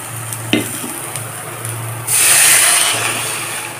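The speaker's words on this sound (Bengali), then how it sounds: "এখন এর মধ্যে জল অ্যাড করব।" Water poured into a hot pan of cooking hog plum chutney, with a soft stir and gentle sizzle giving way to a sudden loud, sustained hiss and splash that slowly eases, close by.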